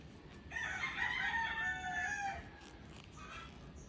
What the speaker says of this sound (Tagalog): Ingay yung mga manok sa amin.